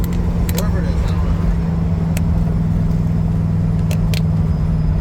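Chevrolet Camaro cruising along, a steady low engine and road rumble with a constant hum, a few sharp clicks and light jangles, heard from inside the car.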